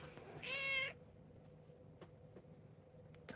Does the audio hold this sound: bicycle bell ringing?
no